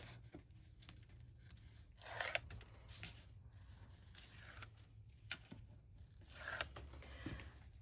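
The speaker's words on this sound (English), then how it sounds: "I'm going to pull all my tape off." Adhesive tape peeled off its backing sheet while working on a papercraft cookbook kit: quiet, close ripping and scraping strokes in short bursts, with no talking.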